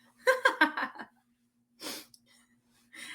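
A quick series of breathy catches builds up, then a sharp sneeze bursts out, followed by a softer second exhale.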